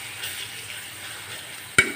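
Onion, garlic and green chili fry softly in oil, a steady low hiss running throughout with one sharp clink of a utensil near the end, no voices.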